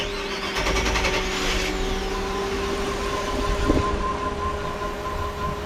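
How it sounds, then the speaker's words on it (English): Mercruiser 350 MPI boat engine idling steadily on the port side, a constant mid-pitched hum with a brief whine early on and a small knock near the end, heard alone. "We're going to start the port engine."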